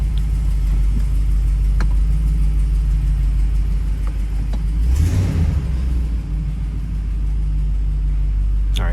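A warmed-up RAM 2500 engine runs steadily at close range, a loud continuous low rumble with a faint brief swell near the middle, no talking.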